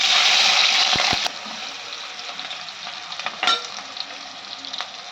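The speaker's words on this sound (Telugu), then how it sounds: "జీలకర్ర, ఆవాలు పోపుకి వేసుకుంటున్నా." Cumin and mustard seeds spluttering in hot oil for an egg gravy, a loud steady sizzle for the first second with sharp pops, then a quieter continuous frying hiss with scattered crackles.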